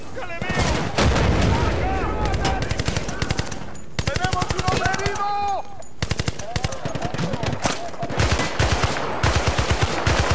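Sustained bursts of M60 machine gun fire in the shooter game Battlefield: Bad Company 2, loud and close with rapid repeated shots and brief pauses between strings of fire, plus scattered explosions and game sounds.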